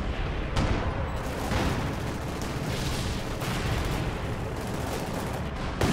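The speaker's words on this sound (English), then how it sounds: "Back over here, more artillery fire." Artillery fire in Company of Heroes 2, part of a dense, continuous barrage of booms and gunfire at moderate loudness.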